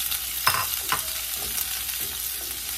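Sliced onions frying in hot coconut oil for a Kerala potato curry, giving a steady close sizzle with a few brief stirring scrapes and no talk.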